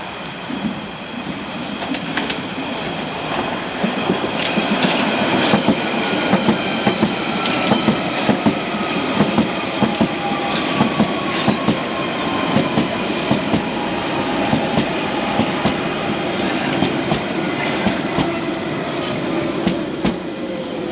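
A London Underground Central Line train on an Epping service at Woodford runs loud and close in steady rumbling motion, with rhythmic wheel clicks and faint squeals.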